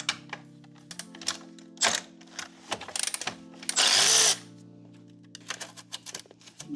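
A wrench works loose the clamp bolt under the exhaust headers of a BMW R1300GS motorcycle, with close, rapid ratcheting clicks in bursts and a brief louder metallic rasp midway over a steady low hum.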